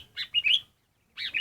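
A yellow-headed leafbird (murai daun kepala kuning), kept as a decoy bird at home, gives two short bursts of bright, warbling chirps separated by a brief pause, close and clear with no talk.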